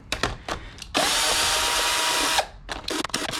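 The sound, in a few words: cheap Hyper Tough drill loosening truck hubcaps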